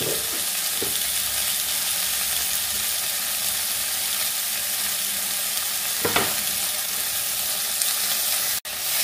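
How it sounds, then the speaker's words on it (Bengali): Tomatoes frying with salt and turmeric in a pan for a Bengali rui fish curry, giving a steady dense sizzle throughout, with a few louder stirring scrapes and one sharp knock near the end. "এই অবস্থায় টমেটো দিয়ে এবার লবণটা দিয়ে দিই, আর একটু হলুদ।"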